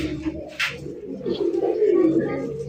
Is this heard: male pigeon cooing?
yes